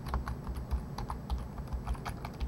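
Quiet, quick typing on a computer keyboard, a rapid run of light clicking keystrokes close by with no talk.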